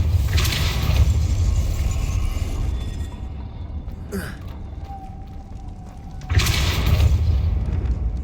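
Depulso spell blasts cast in the video game Hogwarts Legacy, two loud booming bursts of broadband noise about six seconds apart, with a quieter rumbling magical ambience between them.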